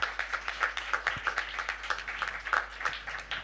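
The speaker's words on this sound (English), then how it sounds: "Give him an embarrassing loud round of applause" Audience applause at a housing justice forum in Melbourne, a lively round of clapping from a crowd, moderately near, pulsing with bursts of energy throughout.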